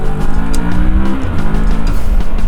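A motorcycle engine revs hard and accelerates along an Indian road, loud and close with a grunty, pulling tone and rising pitch bands under steady wind and traffic roar.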